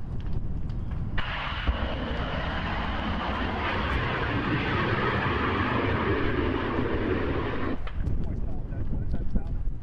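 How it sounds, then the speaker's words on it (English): Pressure relief valves on large propane tanks behind a house vent during the Santa Rosa fire, a loud, steady jet-like hiss that starts abruptly, holds for about seven seconds and then cuts off against a background rumble. "it's the pressure relief valve on the large propane tanks on the back of the residence venting, so they don't explode"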